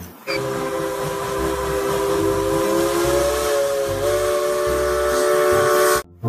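A Thomas toy train whistle sounds continuously over a rhythmic mechanical chugging, steady and close, cutting off abruptly near the end.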